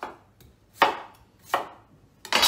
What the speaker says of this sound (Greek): Οι πατάτες είναι έτοιμες, κόπηκανε.